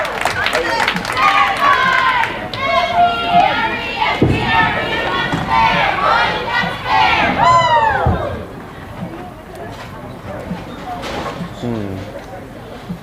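Loud crowd cheering and shouting at a high school varsity bowling match, dense voices and whoops sustained for about eight seconds before easing into quieter chatter.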